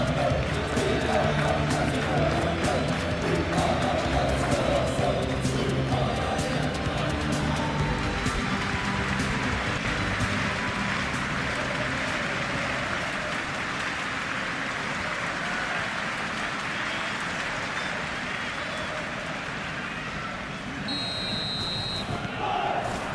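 A stadium crowd roars in a FIFA football video game, a dense, continuous wash of cheering and chanting with an electronic tone near the end.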